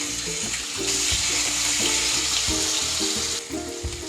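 Ginger, chili and garlic paste hits hot oil with spluttering cumin seeds for a matar paneer curry, giving a loud, continuous sizzling hiss over a low background hum.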